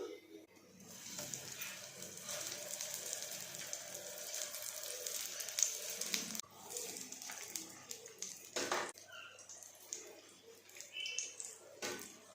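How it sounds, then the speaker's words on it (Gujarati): Potato tikki shallow-frying in hot oil in a pan, giving a steady, close sizzle with crackling pops, which shifts as patties are added and turned, under a voice speaking. "તેલ ગરમ થઈ જાય એટલે આપણે એક એક કરીને ટિક્કી મૂકીશું"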